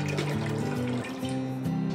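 Water pours steadily into a deep steaming cooking pot, about 1.5 to 2 litres for a modak recipe, a continuous liquid rush with no talk over it.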